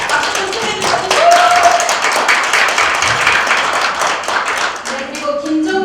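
Audience at a Justice Party committee meeting in Gwangju clapping for an introduced party leader, a loud, dense round of clapping that rises then holds, with faint voices and brief tones mixed in.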